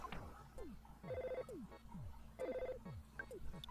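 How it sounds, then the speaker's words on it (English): Telephone ringing in the video game EarthBound, a short electronic trill that repeats twice in even bursts over looping game music and sound effects. "And the phone is gonna ring, just like the door."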